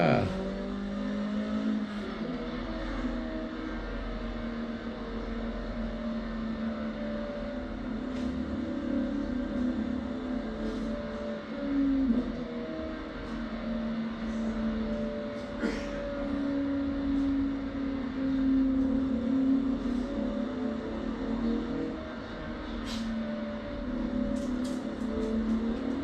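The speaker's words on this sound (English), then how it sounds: "He's racing a fucking car." A race car engine drones and revs continuously for the whole stretch, fairly loud and steady with small swells in pitch, and faint voices sit low in the background.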